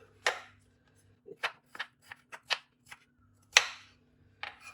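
Three potatoes are cut finely on a board, producing a string of separate sharp chopping knocks at an irregular pace, some louder than others, with a faint low hum beneath.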